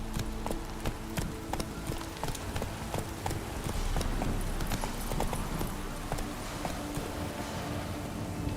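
Roach the horse galloping in the video game The Witcher 3: Wild Hunt, a steady fast clip-clop of hooves close by, rhythmic and continuous throughout under faint ambient game sound.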